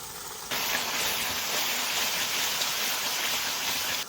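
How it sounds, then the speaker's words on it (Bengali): Masala of turmeric, Kashmiri chili powder and a little sugar sizzles steadily in hot oil in a home kitchen, bursting into a loud continuous hiss that holds close and even throughout. "এবার মশলাটা ভালো করে কষাবো, যতক্ষণ না তেল ছাড়বে ততক্ষণ কষাবো"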